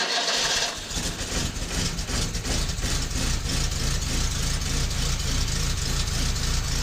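A 1972 Fiat 850 petrol engine idling steadily, loud and close, with a constant rough running note after a brief start at the outset and no voices.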